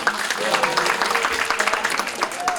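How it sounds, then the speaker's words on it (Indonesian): Audience applauding someone speaker at an Indonesian PMB gathering: a brief burst of scattered clapping mixed with voices talking over it. "Tepuk tangan nih buat Ibu"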